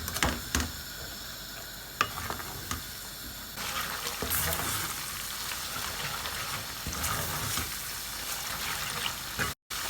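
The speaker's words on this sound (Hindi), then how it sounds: "अब हमने मसाले को भूनना है।" Onion and spice paste fries in a pan for a tinda sabzi, giving a soft, steady sizzle with stirring scrapes and clatter, fairly quiet throughout.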